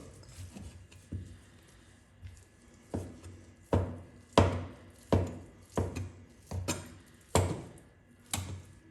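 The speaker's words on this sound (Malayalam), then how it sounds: "ബാക്കിയുള്ള പീസ് ഇതുപോലെ നൈസിന് നുറുക്കുക" A knife chops grilled chicken into small pieces for shawarma, striking the board in about a dozen sharp, close, uneven thuds that come one after another without any talking.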